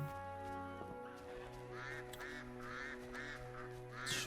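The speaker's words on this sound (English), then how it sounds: "I hear you, geese." Geese honk repeatedly in The Witcher 3 video game, a run of nasal calls spaced evenly over a humming music and ambient bed, fairly faint and with no talking.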